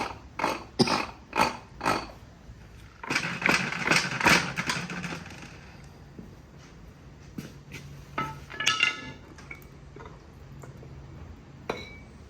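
Metallic grinding and clunking from a 6.7 Cummins truck transfer case with a shaft not pushed fully in, coming in sharp repeated bursts with a rough churning stretch, close up, then tapering to scattered knocks.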